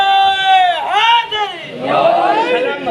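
A majlis crowd at a Muharram gathering chants a religious slogan in loud unison, voices swelling close and sustained, then dipping and surging again.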